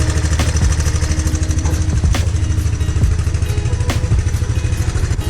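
A Big Red 200ES engine idles steadily and loudly up close, a continuous mid-pitched rumble with mechanical clatter and a few faint knocks, with no voices.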